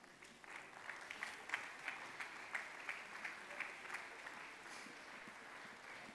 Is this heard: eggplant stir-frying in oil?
no